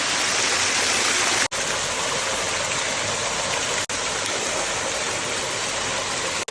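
Steady, full roar of water gushing and pouring through an organic garden to the trees, loud and close, continuous throughout with a couple of brief dropouts.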